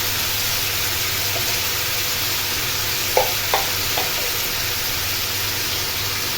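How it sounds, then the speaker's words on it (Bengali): Chicken frying in a pan, a steady hiss of sizzling oil with a few brief spatula taps midway, even and moderate in level with no speech. "খুব ভালো করে ফ্রাই করে নিব।"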